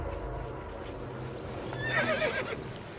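Horses whinny in a high, wavering neigh near the middle of the clip, rising over a low background hum and faint clip-clop of hooves, fairly distant and with no voices.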